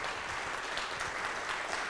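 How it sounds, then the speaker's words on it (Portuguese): Steady, dense applause from a church congregation during a worship service, a continuous wash of clapping with no pauses. "Vamos dar uma salva de palmas para Ele"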